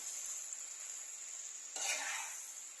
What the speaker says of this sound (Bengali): এবার এর মধ্যে আমি ঝিঙেটাকে দিয়ে দেব দিয়ে আমি কিছুটা নাড়াচাড়া করার পরে